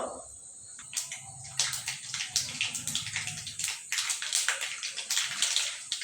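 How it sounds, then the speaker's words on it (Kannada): Mustard seeds, about a teaspoon, crackle and pop in hot oil in a pan for a dhaba-style paneer masala gravy: a steady dense sizzle with scattered sharp spits, close and moderately loud, with no talking. "ಸಾಸಿವೆ ಚಟ್ ಚಟ್ ಸೌಂಡ್ ಬರಬೇಕು."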